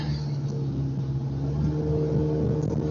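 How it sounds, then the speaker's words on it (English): A car drives on the I-5 highway in traffic, its engine droning steadily with a loud, throaty muffler rumble, continuous and close throughout. "my muffler's nice and loud, too, this time"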